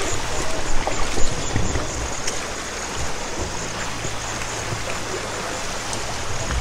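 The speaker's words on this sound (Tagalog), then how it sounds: "ito yung ilog na tatawirin natin" A river being crossed fills the scene with a steady broadband rush of flowing water, loud and continuous throughout with no speech over it.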